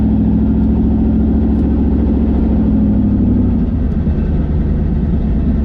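A turbocharged 5.3 LS-swapped Mustang at the drag strip, its engine roaring loud and close with a dense, sustained low rumble as the tires spin on launch, no talk over it.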